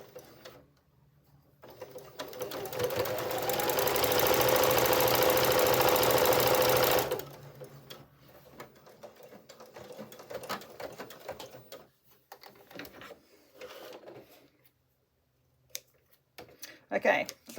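An overlocker runs steadily for about five seconds on a jeans hem, a dense close mechanical whir that starts and stops abruptly, with quieter handling noises and scattered talk afterward.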